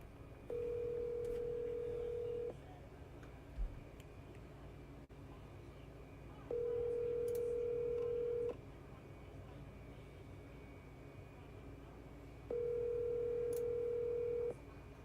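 A telephone on an outgoing call during a night-shift calling session: three long, steady ringback tones spaced evenly a few seconds apart, with a faint click between them and no talk.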